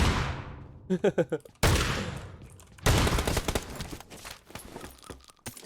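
Gunfire in the mobile battle-royale game PUBG Mobile, with sharp bursts of shots and rapid fusillades separated by brief gaps, loud and close, and a voice talking over parts of it.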